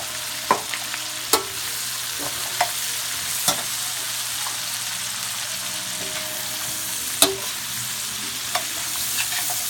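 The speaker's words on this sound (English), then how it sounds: "I got the onions there, sauteing" Onions and fresh carrots sautéing in a pan for a pot roast, a soft continuous sizzle under scattered sharp clicks and taps of a spoon against the pan, nearby and with no speech.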